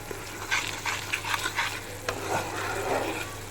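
A masala of sour curd, onion, ginger, garlic, green chili, cashew, melon seeds and poppy seeds is stir-fried in oil for a bhetki fish dish. A close, steady sizzle rises and falls under repeated scraping stirs, with no talk.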